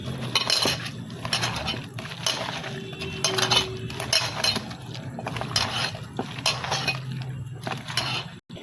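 A spoon scrapes and knocks against a pot as mushroom biryani is stirred together with yogurt, onion and salt, making repeated metallic clinks and scraping strokes at an uneven, busy rhythm, fairly close and loud.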